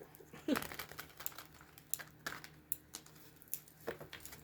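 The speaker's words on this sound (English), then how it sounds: "I just had the urge to shuffle this deck" A tarot deck is shuffled by hand, producing soft, irregular papery crinkles and taps close by in an otherwise quiet room.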